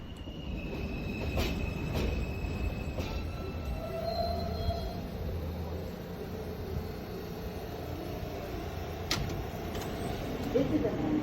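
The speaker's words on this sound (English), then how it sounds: "This is a Manhattan-bound J local train." A Manhattan-bound New York subway J local train rumbles steadily along the rails, with faint wheel squeals and tonal whines rising over the low roar and brief interior clicks, all at a constant close level with no pauses.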